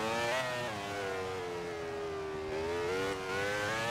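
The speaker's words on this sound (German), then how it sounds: "Da jaulen ein paar Motoren." Formula 1 racing car engines howl in the Grand Prix 4 video game, a sustained high whine with pitch dipping and climbing through gear changes, loud and continuous for a few seconds without speech.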